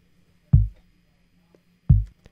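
Two deep, boomy hip-hop kick drum hits with the high end cut away, dull and thumpy, spaced about a second and a half apart, with faint ticks in between and no voices.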